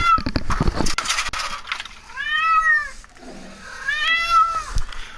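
Two separate, sustained meows from a cat at a window indoors, each about a second long and fairly loud, come after some scattered background noise.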